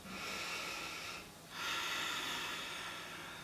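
Slow, deep breaths during a prenatal yoga stretch. A long airy exhale fades into a short pause, then a strong inhale or exhale follows, close and breathy.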